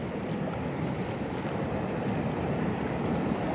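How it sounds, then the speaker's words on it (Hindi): Fast-flowing river water rushes in a continuous broadband wash, with wind buffeting the microphone and no voices, steady and close throughout. "तो गाइस पानी का लहर देख सकते हैं और कुछ इस प्रकार है पानी का लहर यहाँ पे।"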